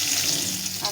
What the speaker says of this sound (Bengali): তেলটা গরম হয়ে গেছে, একটা শুকনো লঙ্কা, একটা তেজপাতা ফাটিয়ে দিলাম